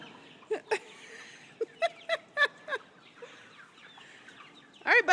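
Chickens on a backyard flock cluck in a series of short, sharp calls spaced across the moment, with a louder burst of clucking at the end over a faint outdoor background.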